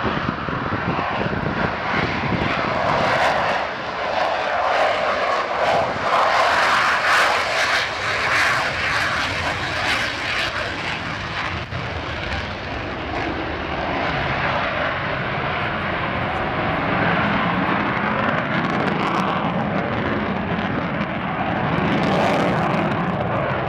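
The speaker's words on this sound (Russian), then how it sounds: "Экспренный истребитель МиГ-29М с отклоняемым вектором тяги ОВД. Взлет форсаж" A MiG-29M fighter jet with thrust-vectoring nozzles roars loudly at full afterburner during takeoff, a steady, powerful blast of engine noise that swells slightly and never lets up.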